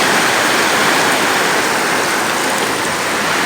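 Heavy rain pours down in a dense, constant roar as a typhoon arrives, loud and close with no pauses.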